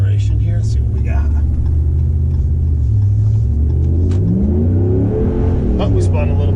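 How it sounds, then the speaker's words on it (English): A Ram 1500 pickup fitted with a Flowmaster Flow FX exhaust accelerates from a steady low idle rumble into a rising engine note, loud and close, with someone talking over it. "Do a little bit of an acceleration here."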